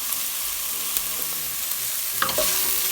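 Garlic and onion frying in a pan for broccoli soup, a steady close sizzle with light stirring scrapes and a brief louder clatter near the end, no talking.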